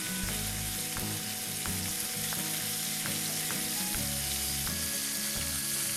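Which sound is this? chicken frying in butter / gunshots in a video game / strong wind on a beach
chicken frying in butter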